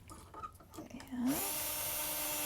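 A power drill pre-drilling wood for a build, with a brief voiced sound and handling noise before the motor starts, then a steady high whine held to the end.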